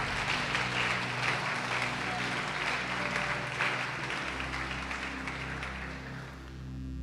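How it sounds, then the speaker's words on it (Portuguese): A church congregation applauds during a worship service, a steady wash of clapping heard at moderate distance under a low hum, fading slightly toward the end. "Você pode aplaudir o Senhor Jesus"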